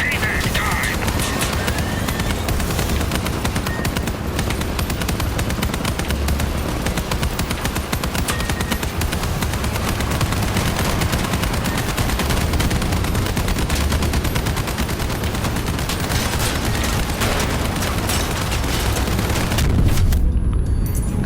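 Continuous machine gun fire from a combat vehicle in the Crossout video game, a dense unbroken roar of rapid shots with booms and engine noise mixed in, loud and close throughout.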